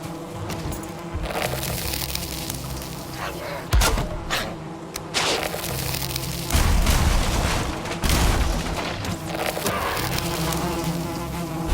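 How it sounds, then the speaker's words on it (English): Bees buzz in the game Valheim, a steady droning hum carrying through the whole stretch, broken by a few sharp thumps and cracks of in-game action, with no talking. "That should be the second bee."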